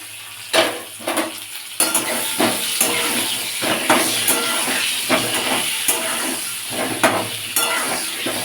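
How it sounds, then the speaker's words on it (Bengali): Cut pointed gourd (potol) fries in hot oil with a loud, continuous sizzle and hiss close at hand. Bursts of spattering and stirring clatter break in at irregular intervals, and nobody speaks. "তেল আমার গরম হয়ে আছে তাই পটলগুলোকেও ছেড়ে দেব সব কাটা পটলই আমি একসাথে দেব"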